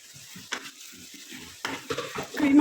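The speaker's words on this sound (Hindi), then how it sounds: "कीमा हमारा भुन चुका है।" Minced meat frying in a pot with salt, chili and curry leaves, a quiet sizzle with scraping spoon strokes that grow louder near the end.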